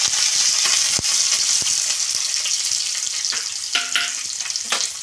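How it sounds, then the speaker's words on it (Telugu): Dry red chillies and curry leaves crackling in hot oil for a tempering, a loud continuous sizzle with sharp pops and a few spoon clinks against the pan. "ఒట్టిమిరపకాయలు, కరివేపాకు ఒకసారి వేసుకొని కలుపుకున్నాం."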